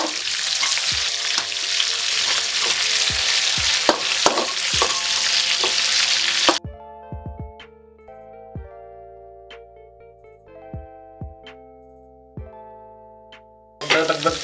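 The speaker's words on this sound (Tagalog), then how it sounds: "Kamatis, igigisa natin for about 2 minutes." Tomatoes sautéing in a pan, a loud dense sizzle with stirring clatter for several seconds that cuts off abruptly into quiet tonal sound, then a burst of sizzling returns at the end.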